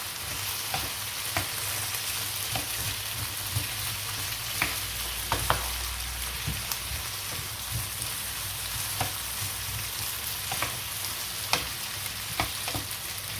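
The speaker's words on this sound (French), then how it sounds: "On va laisser cuire bien les pommes de terre avec les oignons comme ça." Potatoes and onions fry steadily in a pan, giving an even bed of sizzling hiss dotted with faint pops and occasional scraping clicks from stirring.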